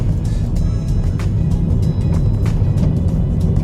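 A Toyota car rolls along a mountain road near Jalori Pass at about 10,000 feet, its brake pedal pressed to the floor yet failing to stop it; a steady, loud low rumble of engine and road noise fills the cabin throughout.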